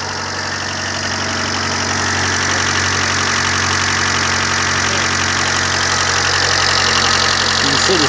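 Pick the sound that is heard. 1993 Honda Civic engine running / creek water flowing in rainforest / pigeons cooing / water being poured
1993 Honda Civic engine running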